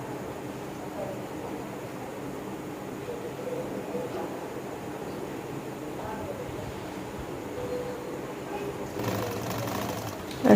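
A sewing machine hums steadily while stitching a full round neckline on a dress, a continuous even whirr running the whole time with a slight rise near the end.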